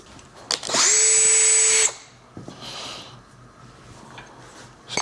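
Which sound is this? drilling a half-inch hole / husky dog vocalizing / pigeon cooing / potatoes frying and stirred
drilling a half-inch hole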